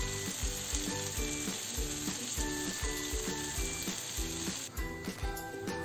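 Paneer tikka pieces fry in a pan on low flame with a steady close sizzle and a regular ticking, rhythmic pattern running throughout, no voices.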